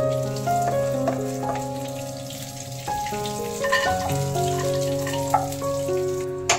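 Raisins and cashew nuts frying in oil in a home kitchen pan, a steady close sizzle with tonal background music running throughout and a few small clicks and pops.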